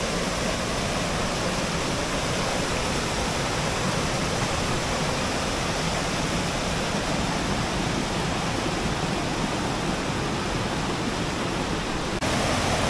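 A Romanian mountain stream beside a hiking trail rushes in a loud, unbroken wash of water noise, close and steady for the whole stretch with no voices.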